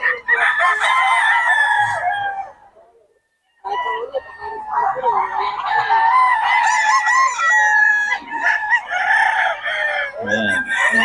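A gamefowl rooster crows loudly and close, repeating long drawn-out calls with a brief pause between them, alongside clucking from other chickens.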